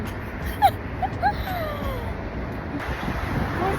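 Cold wind rushing and buffeting against the microphone, a steady outdoor roar with a few faint background sounds.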